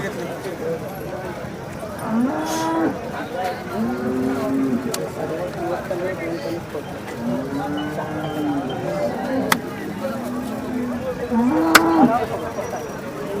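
Cows at the Sangola cattle market low with several drawn-out moos across the stretch, mid-distance, over a steady crowd murmur with voices talking throughout.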